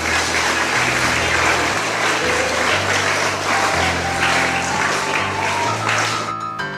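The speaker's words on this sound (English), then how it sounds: "Give yourselves a round of applause." Students at a school assembly applaud, a dense steady clapping throughout with a rhythmic low musical beat underneath, loud and sustained.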